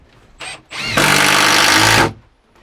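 A power drill drives screws into the walls of a Harvey Allen Game Getter blind: two short whirring bursts, then one steady, loud spin lasting about a second, close by, with no talking.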